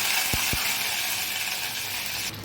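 Steady hiss of curry leaves frying in hot oil, with a couple of brief low thumps early on; no talking.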